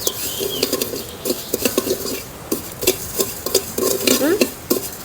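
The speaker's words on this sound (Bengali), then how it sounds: "5-6টা শুকনা মরিচ দিয়ে এটা ভেজে নিব।" Dry red chillies frying with panch phoron in a pan, with repeated stirring scrapes, clinks of a spatula against the metal and a light sizzle, close and moderately loud, no talking.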